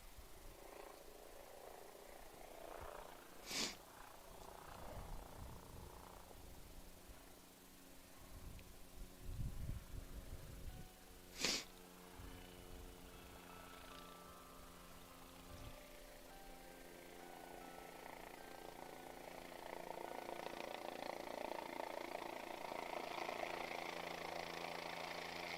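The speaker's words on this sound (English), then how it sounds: "There's a helicopter landing directly behind us." A helicopter landing close by at an outdoor track and field championship meet, a steady rotor and engine drone that builds and grows louder toward the end, with a couple of sharp clanks partway through.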